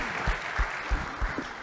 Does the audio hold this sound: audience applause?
yes